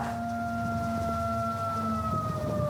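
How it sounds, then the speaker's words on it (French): A persistent whistling tone from a neighbour's property in a garden breeze, with steady overlapping high pitched lines holding continuously over low background rumble, no talk. "Déjà 9 ans que ce sifflement les chasse de leur jardin à la moindre brise."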